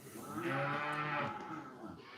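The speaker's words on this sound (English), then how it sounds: "Freaking cows everywhere." A cow on a farm lets out one long, loud, drawn-out moo that swells and fades over about two seconds.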